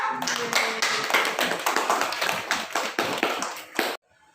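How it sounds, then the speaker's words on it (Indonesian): Students in a classroom give a quick round of hand clapping, a close burst of uneven claps for about four seconds that stops abruptly. "tepuk tangan untuk Alda"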